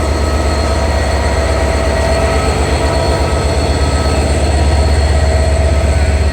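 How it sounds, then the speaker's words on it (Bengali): Train hauled by locomotive 6620, the Nilsagar express out of Saidpur, rolls past at night, a loud, steady roar of wheels and carriages with a constant rumble and faint rhythmic clatter. "ছেষট্টি বিশ লোকোমোটিভ"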